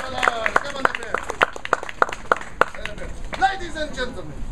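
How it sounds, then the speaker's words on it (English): An audience claps for the Flying Bravlovsky Brothers acrobatic act, a run of scattered, sharp claps heard under someone talking loudly over them. "a big round of applause for the Flying Bravlovsky Brothers"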